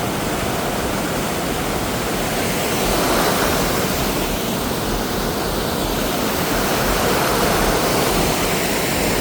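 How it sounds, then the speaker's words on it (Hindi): Dangerous, fast-flowing waterfall pouring straight into the Chambal River at Gardiya Mahadev near Kota, a steady, loud, broadband roar of rushing water filling the whole stretch without a break. "ये डायरेक्ट झरना जा रहा है चंबल नदी में।"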